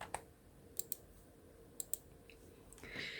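Computer mouse button clicks while working in Excel 2021, with sharp, close clicks coming singly and in quick pairs against a quiet room hum.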